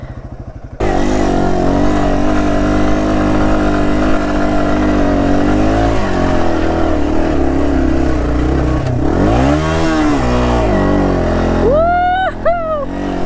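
A Yamaha TW200 motorcycle engine runs loud and steady close by, rising and falling in revs with a clunk near the end as it drops into gear on an incline, and a voice briefly breaks in.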